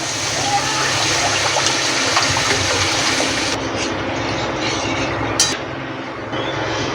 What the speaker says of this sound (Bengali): আমি এবার একটু জল দেব। জল একটু বেশি করেই দেবো